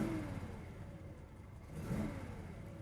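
A 1968 Chevrolet Chevelle engine runs at a steady idle heard from inside the car, a low continuous rumble with a slight rise in revs near the end.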